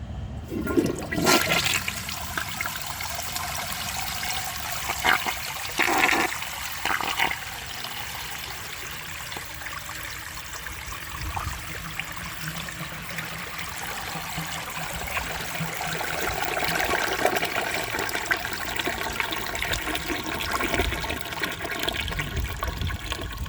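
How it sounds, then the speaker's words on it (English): A 1983 Eljer Hygeian toilet with a fully filled tank flushes in a long, continuous siphon, a steady rushing and gurgling of water that lasts over twenty seconds, close and loud with no talking. "I think that might be the longest siphon of any toilet on YouTube."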